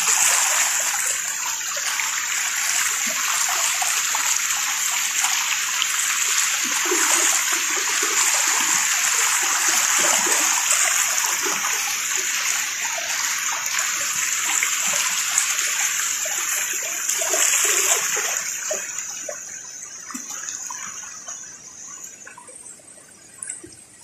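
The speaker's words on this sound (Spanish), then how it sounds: "El sonido del agua es relajante, así que voy a hacer silencio para que disfruten" Pimpilitu waterfall in the Amazon, a continuous broad rushing and splashing of falling water, steady and fairly close, fading slightly near the end.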